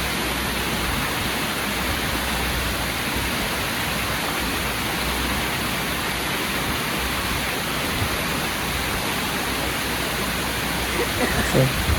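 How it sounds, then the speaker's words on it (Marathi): Falling water at Palghar waterfall gives a constant broad roar, loud and close, holding steady throughout with a few faint knocks near the end. "बघू शकता सुंदर असं वाहतं पाणी."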